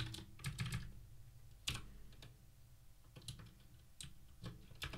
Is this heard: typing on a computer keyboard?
yes